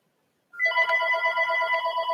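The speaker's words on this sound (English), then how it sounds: "sorry about the phone in the background" A telephone rings in the background, a faint, steady warbling electronic ring that continues without pause after a moment of silence, with no talking over it.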